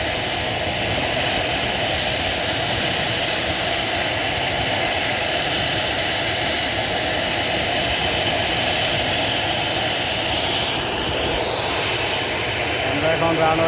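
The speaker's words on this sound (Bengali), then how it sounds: "আমরা এই এয়ারক্রাফটটা হাই স্পিডে দেওয়ার জন্য এখানে নিয়ে আসছি।" A jet aircraft named Pushkar speeding along an airport runway, with a loud, steady engine roar and rushing wind that fill the whole clip and barely change.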